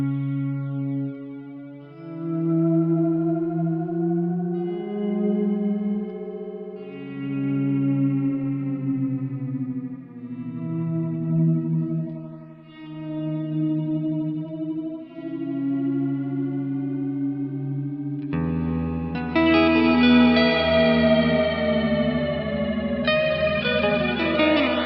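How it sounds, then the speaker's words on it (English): Lexicon PCM81 rack effects processor with a dual FX card, producing a weird sci-fi effect on an instrument: wobbling, pitch-shifting, chorused tones that warble continuously and then turn brighter and harsher near the end, loud with no talking. "I just need this weird sci-fi noise on something, and you run any instrument or a voice through it"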